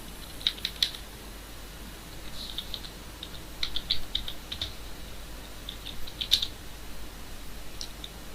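Code being typed on a computer keyboard in scattered bursts of light, crisp key clicks, some single taps and some quick clusters, close by and fairly quiet with no talking.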